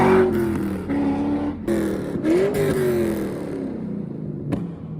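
A loud C5 Corvette engine with a deep, raspy exhaust note through headers and an X-pipe with no mufflers or catalytic converters, rising and falling in pitch as it revs, ending with a sharp pop.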